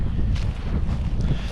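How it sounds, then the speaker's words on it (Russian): Spring wind blows hard across an island on the Gulf of Finland, a continuous low rumble buffeting the microphone, loud and unbroken. "потому что поднялся ветер."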